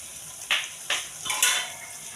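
A lid clinks onto a pan of prawns cooking with onion and garlic, giving several light metallic knocks and rattles over faint sizzling.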